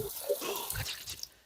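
Running water sloshes over raw chicken pieces being washed for biryani in a village kitchen, with splashing and dripping under a voice.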